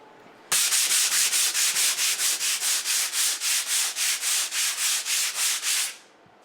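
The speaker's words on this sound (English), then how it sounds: "here, we're just going to buff that off" Rapid, steady back-and-forth rubbing as a gyprock wall patch is buffed to remove a trowel line, about twenty even strokes over several seconds, close and fairly loud with no talking.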